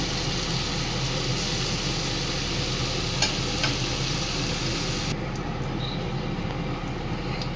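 Onion, ginger and garlic paste fries with cardamom, dried chilli, cinnamon and cloves in hot oil, a loud, dense, continuous sizzle with faint scraping stirs, close up and without speech.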